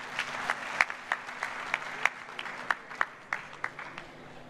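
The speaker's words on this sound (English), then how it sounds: "I believe the IGP deserves a louder round of applause than this." Scattered audience applause follows the close of a speech at a forum on election peace and justice, with a handful of distinct, fairly loud individual claps spaced irregularly rather than a full ovation, over a faint steady hum.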